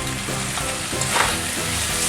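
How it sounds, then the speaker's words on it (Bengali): Spice paste fries with rice in a pan, a loud, dense sizzle heard up close with soft stirring scrapes throughout and no talking. "এটা এইভাবে মশলাটা কষাবো চালের সাথে"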